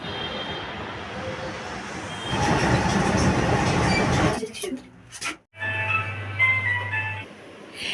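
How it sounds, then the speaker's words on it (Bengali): A metro train pulling out of Masterda Surya Sen station in Kolkata, a loud rumbling rush building then cutting off into quieter platform ambience with a low hum and brief clatter. "তো মেট্রোটা চলে যাচ্ছে"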